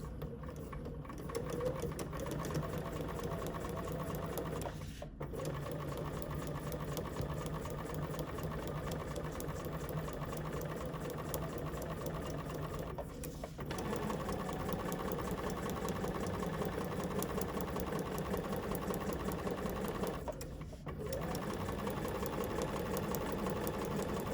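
A sewing machine stitches fabric at about a 3 mm stitch length while quilting a notepad holder, a steady rapid mechanical whir running continuously with a few brief pauses.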